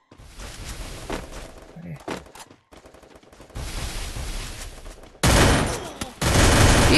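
Bursts of gunfire in a shooting video game, fusillades of rapid shots broken by short gaps, growing louder and denser toward the end.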